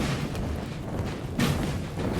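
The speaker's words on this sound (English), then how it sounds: "They waited till they were discovered to let the artillery start firing" Artillery fires on a Napoleonic battlefield in Napoleon Total War, heard as distant low booms with one stronger thump near the middle over a steady rumbling battle bed.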